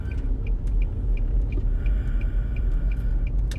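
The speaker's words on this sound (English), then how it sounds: "It's noon traffic." Noon city traffic backed up in a big town lane near a police scene, with a close steady engine rumble and idling vehicles, punctuated by a regular clicking tick about every quarter second, like a turn signal.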